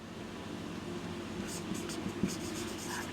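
Marker or chalk scratching on a board during a Class 9 physics lesson on rest and motion, soft irregular strokes under a steady low room hum, a few brief taps near the end.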